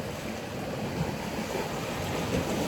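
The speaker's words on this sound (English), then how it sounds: "having this sound of the waves crashing and the wind" Ocean waves crash on the shore under steady wind, forming a dense, constant roar of surf and gusting air that fills the whole stretch.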